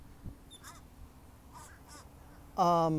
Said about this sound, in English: hear all the birds just singing along